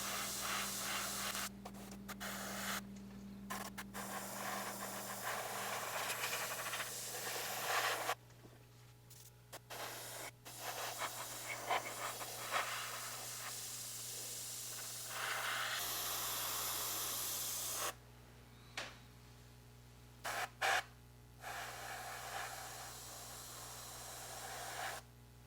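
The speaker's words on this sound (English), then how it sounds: "I'm going to be using MRP's 127 Super Clear Matte Varnish, running through my PS267" An airbrush sprays MRP 127 Super Clear Matte Varnish onto a P-40F Warhawk model in repeated bursts of soft airy hissing, stopping and starting over a faint background hum, quiet and close.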